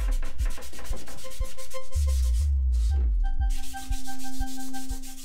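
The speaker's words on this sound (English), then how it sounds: "I'm gonna have to hand sand everything" Someone hand-sands a 3D-printed part with coarse 80-grit sandpaper, making close, loud back-and-forth rasping strokes in a steady rhythm. A faint steady tone sits underneath.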